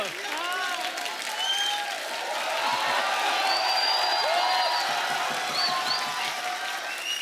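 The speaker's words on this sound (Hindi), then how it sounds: "तालियां देखो।" Steady applause from a comedy show audience fills the whole stretch, dense clapping with scattered whoops and cheers, loud and continuous.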